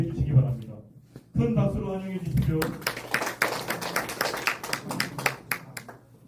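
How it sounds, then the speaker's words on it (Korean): Audience applause welcoming a presenter at a Korean policy forum on a local festival, a burst of dense, fast clapping that swells after a spoken announcement and carries on steadily to the end. "큰 박수로 환영해 주십시오."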